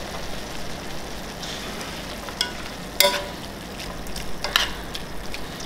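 Bolognese of longaniza sausage meat simmering in a pan on lowered heat gives a steady soft sizzle with a few sharper crackles and pops, close up and with no voices.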